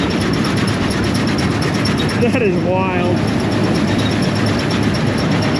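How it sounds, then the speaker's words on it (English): An old Massey combine running with a squeaky header, a loud steady mechanical drone with rhythmic squeals and rattles throughout, and people talking over it. "It all sounds good. It's squeaky like an old header"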